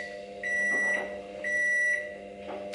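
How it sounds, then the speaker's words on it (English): A kitchen microwave oven beeps three times, evenly spaced tones of about half a second each, fairly loud and clear against a low appliance hum. "that's the microwave"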